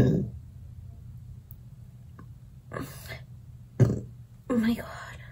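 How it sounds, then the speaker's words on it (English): A person burps a few times in a quiet room, short throaty bursts that stand out clearly and close, with soft breathy vocal sounds between them. "Oh, I need to burp already."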